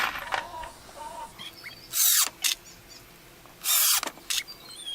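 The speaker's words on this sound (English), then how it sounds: "I'm actually screwing the screws in at an angle" A power drill drives screws at an angle into wood for a vegetable garden path, with two loud, whirring bursts about a second long each and short follow-up spins between them over a quiet outdoor background.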